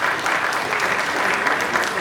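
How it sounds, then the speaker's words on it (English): Audience applause at a live musical evening concert, a steady, dense wash of clapping from a large crowd that continues evenly throughout. "Can you please clap for his spirit?"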